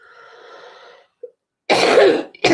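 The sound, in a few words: cough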